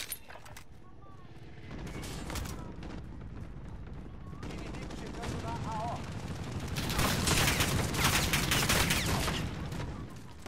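Rapid automatic gunfire and bursts of shooting in the video game Call of Duty: Modern Warfare, including fire from a helicopter on a street, building into dense, loud volleys with voices talking over the action.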